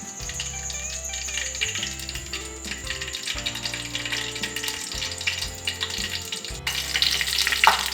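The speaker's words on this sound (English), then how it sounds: "Now as you can hear a sizzling sound" Herbal leaves sizzle steadily in hair oil heated on a gas stove, giving a continuous crackling hiss with occasional stirring clinks near the end.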